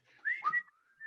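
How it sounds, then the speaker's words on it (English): A person whistles a short, wavering tune, close and fairly soft, with sliding notes and a brief pause before a final held note. "Whistling."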